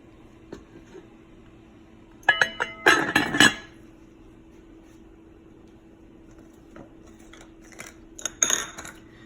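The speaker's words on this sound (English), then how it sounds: "I'm gonna cover it to let it boil" Metal cookware clinks and rattles as a lid is set on a pot of boiling rice water in a home kitchen, in one clattering burst followed later by a second, fainter flurry over a low steady hum.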